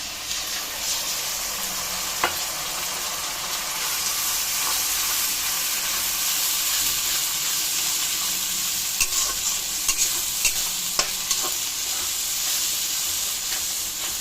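Spice paste for chicken sizzling and frying in a pan with a steady hiss, a spoon occasionally scraping and clacking as it is stirred.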